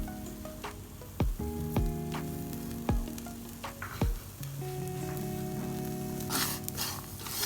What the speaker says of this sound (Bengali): চিনি এবং নারিকেলগুলোকে অনবরত নাড়তে থাকবো।